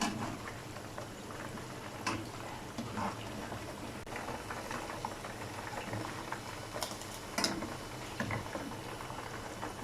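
A whole chicken for Lahori chargha fries in hot oil with a soft, continuous sizzle. Scattered crackles and pops come through at a low, even level.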